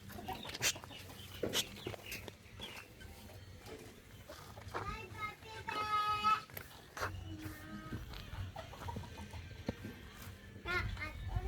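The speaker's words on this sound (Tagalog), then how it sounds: "Aba, nagsabong yung dalawang manok, oh." Chickens squawk and cluck in bursts with flapping scuffles, close by, while people and someone talk over the commotion.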